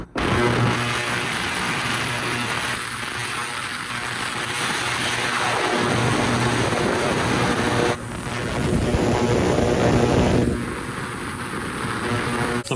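An ultrasonic cleaner full of dirty carburetor parts from a Wetbike drones steadily and loudly, a broad noisy hum with a high whine that shifts partway through, with no talk.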